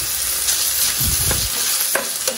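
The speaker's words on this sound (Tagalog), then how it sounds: "Haluin lang po natin." Chicken adobo with all its ingredients sizzles steadily in a pan while a spoon stirs through it, giving a few close scraping sweeps over the constant frying hiss.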